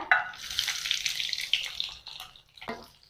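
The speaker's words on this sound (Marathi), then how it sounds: "आणि आता कांदा थोडासा परतून घेऊया" Onion with cumin and whole spices sizzles in hot oil for a paneer-style corn curry, a close, bright hiss that fades gradually, ending with a short stir or scrape.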